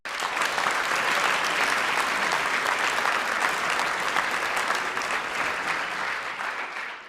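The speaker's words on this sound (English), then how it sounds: "I do think that all of you deserve a special round of applause." An audience at a public health address breaks into sustained applause, a thick, even roar of clapping from a large crowd that holds for several seconds before fading slightly.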